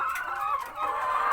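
Laying hens in a low coop during the hot dry season give short, close clucks and a drawn-out squawk in a quick sequence. No one speaks.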